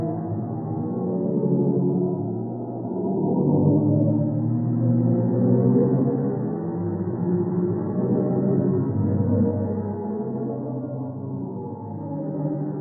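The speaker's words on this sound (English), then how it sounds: "The sound comes from pressure waves rippling through the hot gas surrounding the black hole, creating the deepest note ever detected in the universe" Black hole sonification built from pressure waves rippling through hot gas around a black hole, a deep B-flat: a steady, dense, droning low rumble with layered resonant tones, sustained and fairly even in loudness throughout, no voices.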